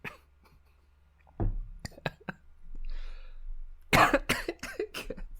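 Several harsh coughs ring out close up, scattered between quiet pauses, with a breathy exhale in the middle and a burst of loud coughing near the end.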